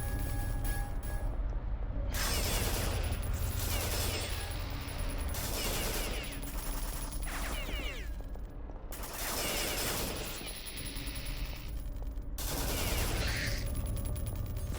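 Rapid bursts of gunfire from the boomer shooter The Citadel, loud and close, coming in several long volleys with short mechanical clatter between them and no talking.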